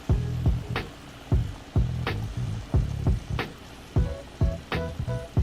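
Chiles sizzle and crackle in hot oil in a pan for salsa macha, close and moderately loud, with irregular sharp pops and clatters from stirring breaking through the steady frying hiss.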